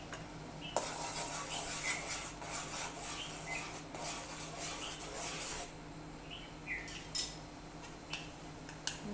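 Spoon stirring a pot of manchow soup after powder is added, giving soft repeated scraping and clinking strokes against the vessel over a low background hum, with no talk.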